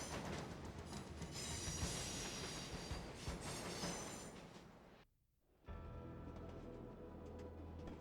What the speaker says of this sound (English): the express train stops in Waiuru before unwittingly steaming towards the chasm that is opened up over the now raging Whangaehu River